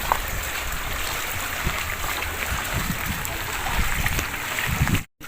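Floodwater overflows from a clogged street drain onto a road in Santa Rosa, Laguna during a typhoon, making a steady rushing, splashing wash that carries on continuously before cutting off abruptly at the end.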